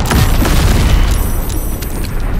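Repeated explosions from the Bombardment spell in Baldur's Gate 3, loud, deep booms rolling one into the next in a steady barrage with no talking.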